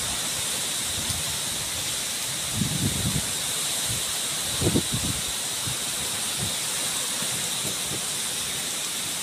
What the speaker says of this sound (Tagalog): Sobrang lakas ng hangin, naputol yung papaya oh